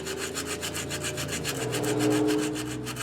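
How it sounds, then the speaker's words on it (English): Coarse sandpaper scrubbing corroded car battery terminals on a Mustang being started after long-term storage, a steady, close, continuous rasping rub with an even back-and-forth rhythm and no voices. "So I've got some coarse sandpaper here."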